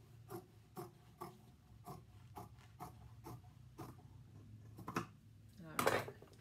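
Scissors cut upholstery fabric along a curve for a curved chair back in a rhythmic run of close, crisp snips, ending in one louder rasping cut.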